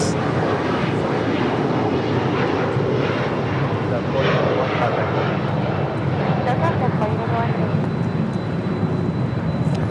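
An airliner on short final for landing at LAX sends a continuous broad engine roar under occasional talk, sustained and fairly loud for the whole stretch.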